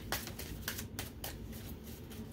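A deck of oracle cards is shuffled by hand, giving soft papery riffles and flicks in quick repeated bursts, close and fairly quiet, with no talking.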